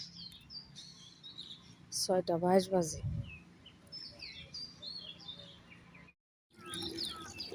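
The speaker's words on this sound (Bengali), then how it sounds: "গাছটা ভর্তি পাখি, বাপরে সাউন্ড করতেছে" Many small birds chirp and tweet in a tree on a foggy morning, faint scattered calls through most of the stretch, interrupted by a brief burst of nearby speech.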